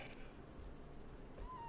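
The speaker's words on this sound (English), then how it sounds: "So if you hear meowing in your ear," A soft, faint cat meow rises briefly near the end over a quiet background hum.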